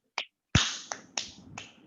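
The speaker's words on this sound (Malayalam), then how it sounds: "എല്ലാവരും ഒരു ക്ലാപ്പ് കൊടുത്തേ" A few sharp claps or snaps from children in an online LKG class, spaced unevenly with short bright ringing tails, quiet and alone with no talk.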